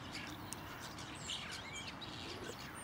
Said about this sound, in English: Much more bird song today.